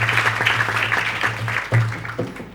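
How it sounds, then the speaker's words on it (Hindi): An audience at a religious gathering claps in a sustained patter of applause, with a low steady hum underneath that fades toward the end. "अरे तालियां।"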